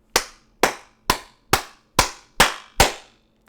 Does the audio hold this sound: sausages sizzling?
no